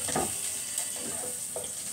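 Garlic and onion fry in a pan, giving a steady hissing sizzle with a few soft stirring scrapes, close and moderately loud, no voices.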